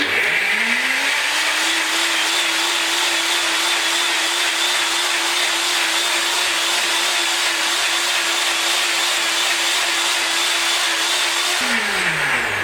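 A loud NutriBullet RX blender motor blending vegetable soup spins up, whirs steadily at high speed for several seconds, then winds down, with no talking.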